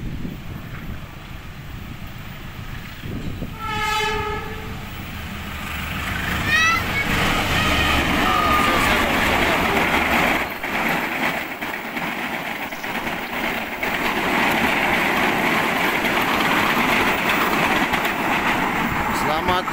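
A KA Commuter Line Bandung Raya train bound for Cicalengka passes close by, sounding its horn briefly before a long, loud rumble of wheels and cars rolling past, with someone speaking over it.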